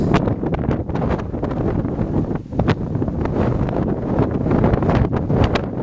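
Strong wind buffets a microphone on a mountain ridge in Dominica, a constant rough rumble with sharp gusty thumps throughout.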